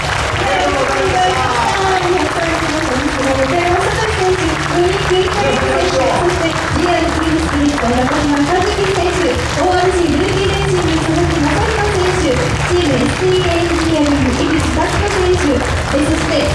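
A crowd at a racing driver talk show during the Fuji Super TEC 24-hour race weekend claps continuously beneath amplified voices, with a loud, steady wash of outdoor noise throughout.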